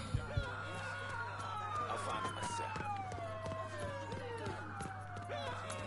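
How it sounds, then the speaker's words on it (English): A police car siren in the video game Mafia 3 wails with a warbling, drifting tone, fairly steady over game noise and engine hum, with a few brief thuds at the start. "This police car sounds drunk as hell."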